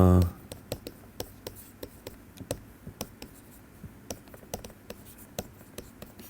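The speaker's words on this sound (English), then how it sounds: "let me just write it down" Hand-writing physics equations on a surface, a quick series of light tapping and scratching pen strokes in irregular rhythm, close and fairly faint, with a brief voice at the start.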